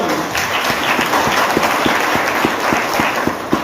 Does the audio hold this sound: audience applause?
yes